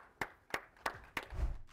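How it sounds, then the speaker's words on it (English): A few people clap in a sparse burst, four sharp separate claps at steady intervals, close and fairly loud, ending in a low thump. "Clap it up for him."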